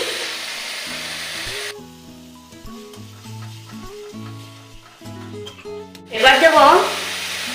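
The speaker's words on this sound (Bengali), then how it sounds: "মশলাটা আমি খুব ভালো করে কষিয়ে নেব" Malai katla masala of chilli and ginger paste fries and is stirred in a pan, giving a brief loud, dense sizzle at the start before instrumental music takes over and a voice comes in near the end.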